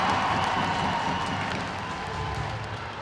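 A home ice hockey crowd in an arena, Sheffield Steelers against Cardiff Devils, giving off a broad, steady roar of jeering and noise that fades slightly toward the end.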